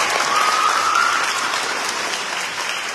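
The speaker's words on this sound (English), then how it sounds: "let's give a round of applause" Audience applause at Mayor Spano's annual back-to-school book and backpack giveaway, a steady dense clatter of many clapping hands that stays fairly loud and even throughout.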